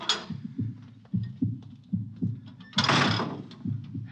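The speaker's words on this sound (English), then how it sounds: "I'll open the bulkhead." A spaceship bulkhead door in a science-fiction radio drama grinds open with a rhythmic mechanical throb, a steady pulsing thump repeating about twice a second beneath a loud hissing burst of escaping air near the end, with no talking.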